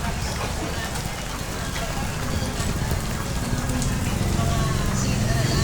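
Heavy rain pours down during Typhoon Carina amid neighborhood flooding, a dense, steady hiss and patter that grows slightly louder, with faint voices mixed in.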